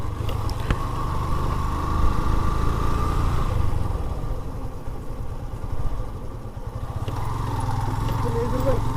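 A motorcycle engine hums steadily while riding through a tea garden, with a low wind-blown rumble throughout and faint voices in the background.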